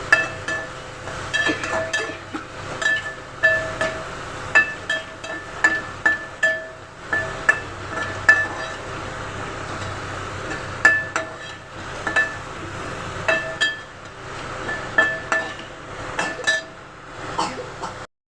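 A metal spatula clinks rhythmically against a pan while food with cumin and turmeric is stirred and sautéed, a steady run of sharp taps repeating over a soft background sizzle.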